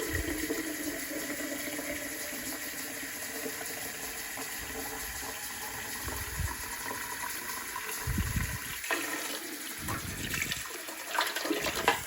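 Hot water running from a tap into glass jars being filled for sterilizing before pressure canning yellow beans; a steady rushing stream with shifting gurgles and brief pauses near the end as jars change.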